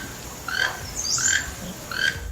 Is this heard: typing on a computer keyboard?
no